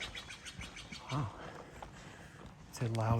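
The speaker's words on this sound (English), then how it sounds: "it's a loud bird" A loud bird calls on a mountain hiking trail near Cabot Lake on Mount Jefferson: a brief harmonic cry, then a stronger, sustained call at the end, heard over someone talking and outdoor background noise.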